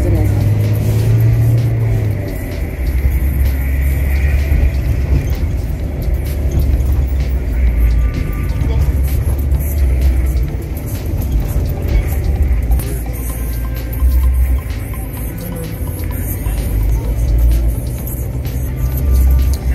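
Inside a bus riding through St George's, Grenada, the engine rumbles loud and low with shifts as it accelerates and slows, and voices come and go under the steady road noise.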